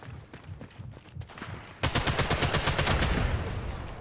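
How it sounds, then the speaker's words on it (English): Machine gun fire in Sniper Elite 5: scattered distant shots patter at first, then a loud, dense automatic burst erupts and rattles on steadily, close and continuous. "Bloody machine guns."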